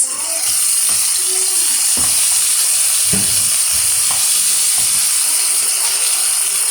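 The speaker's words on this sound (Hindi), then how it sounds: "इसको तकरीबन 3 से 4 मिनट तक फ्राई करेंगे।" Chicken Manchurian frying in a hot pan, a loud, steady hiss and sizzle with occasional soft stirring knocks, close and unbroken.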